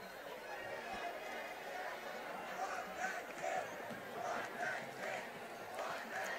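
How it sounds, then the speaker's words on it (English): Crowd noise swelling at a high school varsity football game between North Forsyth and Milton, a distant roar of voices and cheers from the Milton side building steadily as a field goal is attempted. "Crowd rising over here on the Milton side"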